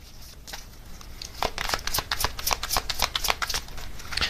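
Tarot cards are riffled and shuffled by hand, then flipped out of the deck, a burst of crisp papery flutters and snaps close to the ear, with no talk.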